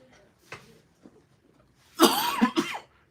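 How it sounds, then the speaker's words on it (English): A couple of short, harsh coughs burst out close by after a few quiet, faint sounds, loud against an otherwise quiet background. "My bad, I was coughing."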